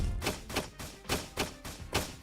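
Repeated thudding hits on a cannon in a video game, about seven evenly spaced impacts with bright, sharp attacks in quick succession; no talking.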